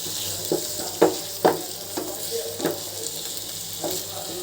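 Hilsa fish fries with spices in a pan, a steady close sizzle broken by several sharp scraping stirs at irregular intervals, with no talk.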